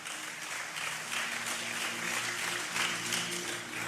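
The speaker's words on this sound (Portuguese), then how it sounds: "aplauda o Senhor" A church congregation applauds during a Portuguese-language sermon, a soft, steady wash of many hands clapping heard at a distance, with a faint low hum underneath.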